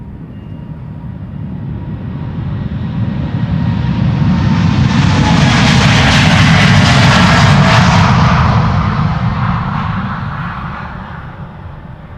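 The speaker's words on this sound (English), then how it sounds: "This is the 787-10 Dreamliner." A KLM Boeing 787-10 Dreamliner on flight 603 passes at Schiphol Airport, its jet engines building to a loud broad roar that peaks midway and then slowly fades, with no voices.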